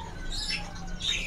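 Young magpie-robins from a large stock of around 150 birds give short high chirps, a couple of close bursts over steady background noise.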